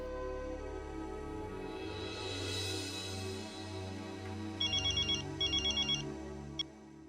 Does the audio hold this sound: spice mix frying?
no